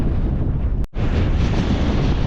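Strong wind buffets a hilltop in a loud, continuous rumbling roar, broken only by a brief dropout of under a second.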